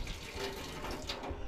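Water runs steadily from a faucet into a sink in a small kitchen area with a washroom nearby, a continuous close hiss lasting throughout without speech.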